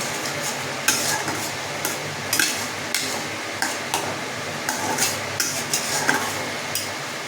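Potato and pointed gourd curry with a little ghee stirred in a pan: a steady sizzle under repeated scraping strokes of a spoon against the pan, roughly one every second, close and fairly loud, with no talking.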